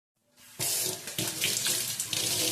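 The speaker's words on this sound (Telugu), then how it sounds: "తర్వాత హ్యాండ్ వాష్ అనేది చేసేసుకుంటాను" Tap water gushes into a sink while hands are washed during home cleaning, a loud, steady splashing stream that starts abruptly after a brief quiet moment and runs on without talk.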